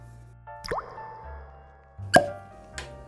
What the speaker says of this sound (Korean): 이번에는 코르크가 굉장히 짱짱하네요.